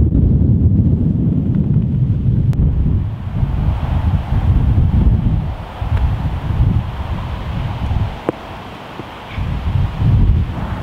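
Strong gusting wind buffets a camera on an uphill golf course, making a loud, continuous low rumble that surges and dips for the whole stretch with no talking.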